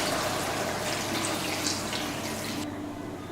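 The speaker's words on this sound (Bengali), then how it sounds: "এখন আমি এর মধ্যে নারকেল দুধ আর 1 কাপ জল একসঙ্গে মিশিয়ে ঢেলে দিচ্ছি।" Coconut milk and water mixed together and poured into a pot of half-cooked chicken malai gosht curry, giving a steady splashing liquid pour for about two and a half seconds before it eases off.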